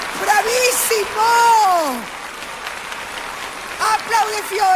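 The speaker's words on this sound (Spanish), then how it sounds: "¡Aplaude Fiorella!" Applause from a studio audience for a singer's performance on a televised singing competition, a broad wash of clapping sitting beneath an excited presenter's shouted talk.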